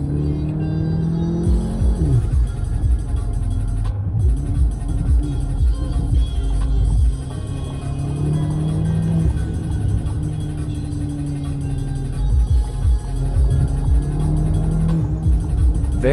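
An Audi A3 S3 8V accelerating, its engine giving a steady loud rumble throughout with rising tones as the revs climb, heard up close from inside the car.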